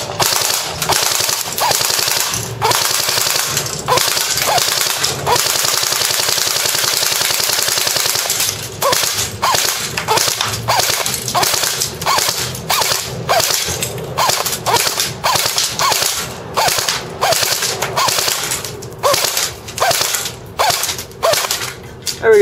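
An A&K ACR Masada airsoft rifle fires full auto at a can, a dense mechanical rattle of rapid shots that runs continuously at first and then breaks into shorter bursts, loud and close with no talking.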